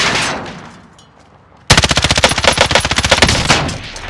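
Video game gunfire: after a quieter moment, a loud, close burst of rapid automatic fire breaks out and rattles on steadily for over two seconds.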